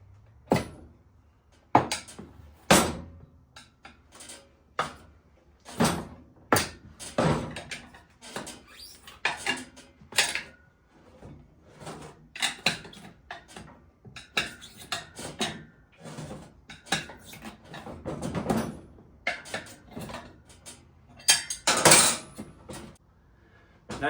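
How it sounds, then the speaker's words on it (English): A steel tire iron clanks and scrapes while prying the bead of a CRF110 dirt bike rear tire off its metal rim, a series of sharp irregular metallic knocks and clicks spread through a quiet workshop. "There's a sweet spot, just an inch or two out from where the bead is coming out. And the tire iron will slide right in."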